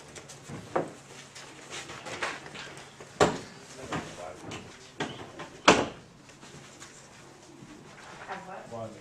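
Door being shut indoors, sharp thudding knocks that stand out among quieter clatter while people talk throughout.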